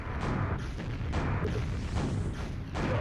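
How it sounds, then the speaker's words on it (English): Rocket explosions in a Quake video game match, with repeated loud booming blasts in steady succession amid constant game noise. "Phrenic sidestepped into him with a perfectly aimed rocket"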